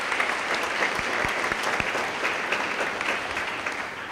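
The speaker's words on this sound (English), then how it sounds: "Please give them all a round of applause." Audience applause at a National Honors Society induction ceremony, a dense, even wash of many hands clapping with a few close, sharper claps, sustained at a steady level with no speech.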